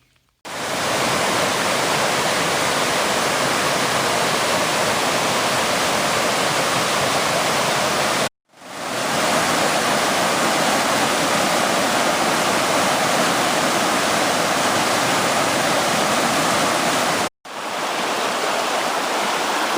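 Ellis Run, a stream a couple of miles downstream, rushes loudly and steadily in a dense, close-up roar of flowing water, broken by two brief cuts, with no voices.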